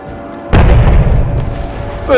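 A single loud, deep boom erupts suddenly and rumbles away in Beach Invasion 1945, followed by a rising whine as the explosion fades.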